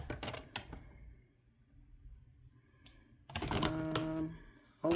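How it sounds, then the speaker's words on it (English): Close, clicky rustling of markers being handled and shuffled, in quick bursts separated by a quieter pause. "the rustling you hear is because the markers are over here, over there, behind you"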